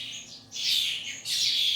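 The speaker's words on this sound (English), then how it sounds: "There are 70 fledglings in here, ranging from dunnocks to starlings, blackbirds to various finches." Fledgling birds at a wildlife rescue, including dunnocks, starlings, blackbirds and finches, give two bursts of high, shrill chirping, close and fairly loud, with a short gap between them.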